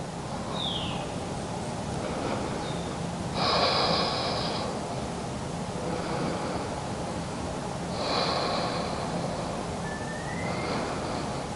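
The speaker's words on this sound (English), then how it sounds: "Breathing into the shoulder blades." Two slow, deep breaths, airy and drawn out, rise about four seconds apart during a postpartum yoga shoulder-blade stretch, set against a steady hiss of soft background ambience.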